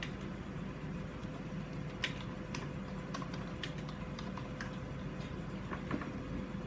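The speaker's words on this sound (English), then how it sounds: "So I'm just gonna be typing a lot." Steady clicking on a computer keyboard fills the space during a Roblox Escape The Night game, with irregular keystrokes tapping close and clear over a constant low hum, no voices.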